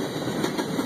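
A train rolling along railroad tracks nearby, a steady loud rumble with faint clickety-clack filling the whole brief moment, no talking.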